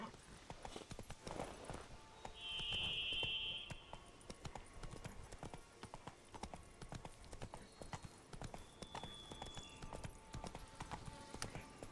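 Roach, Geralt's horse in The Witcher 3: Blood and Wine, clip-clops in a steady walking rhythm with game ambience behind it. A brief whinny-like tone rises early on, and there is no talk.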